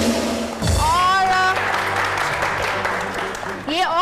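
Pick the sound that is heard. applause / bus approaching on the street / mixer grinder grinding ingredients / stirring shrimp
applause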